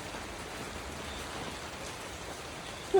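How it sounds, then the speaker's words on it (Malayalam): Heavy morning rain falls steadily outside a home kitchen, a dense even hiss of drops filling the whole stretch at moderate level, with a brief knock near the end. "ഇന്ന് രാവിലെ തൊട്ട് പറയാന്നുണ്ടെങ്കിൽ ഭയങ്കര മഴയാണ് കണ്ടില്ലേ കൊടും മഴ"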